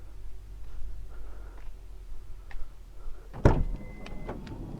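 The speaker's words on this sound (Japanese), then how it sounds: "電動スライドドアってことは運転席から操作できるのかな。" Power sliding door on a Toyota Roomy opening: a soft mechanical whir and ticking, then a sharp thud as the door releases and travels, followed by faint clicks, heard nearby at moderate loudness.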